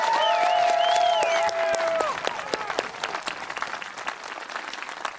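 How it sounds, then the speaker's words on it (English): Applause for the graduating class of 2020 and 2021 at Peninsula College's in-person commencement in Port Angeles, Washington: a large crowd claps steadily, loud at first, then fades to thinner, scattered clapping. "Let's give them a round of applause."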